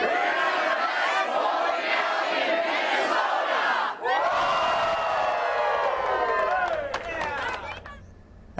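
A large crowd at a Minnesota bowling alley cheers, whoops and shouts loudly and continuously, swelling again after a short dip and fading toward the end.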